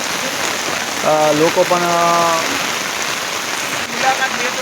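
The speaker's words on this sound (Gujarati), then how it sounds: "તમે જુઓ ખરેખર ચારે કોરા વરસાદ પડી રહ્યો છે" Steady monsoon rain pours down in Gujarat with a dense, even hiss. A voice speaks briefly partway through.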